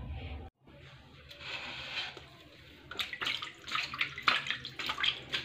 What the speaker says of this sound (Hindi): ज़्यादा देरी नहीं रखेंगे, इसे ठंडे पानी में डालेंगे।